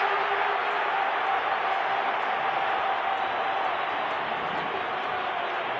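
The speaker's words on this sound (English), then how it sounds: "The local crowd in Pieter-Steph celebrate the first try of the 2022 season for South Africa" A home crowd at a South Africa Springbok rugby match in the 2022 season roars after a try, giving a dense, continuous wash of cheering with no breaks.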